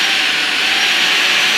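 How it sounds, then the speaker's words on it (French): Cordless vacuum cleaner running at its highest power setting, a steady airy whine with strong hiss held at a constant level throughout, close and fairly loud. "c'est pas non plus l'aspirateur qui fait le plus de bruit"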